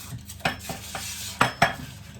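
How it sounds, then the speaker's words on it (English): Individual pastry tins are greased with margarine, giving a few sharp metallic clinks and scrapes in an irregular rhythm. Two louder knocks stand out near the end, and nobody speaks. "grease 6 individual tins"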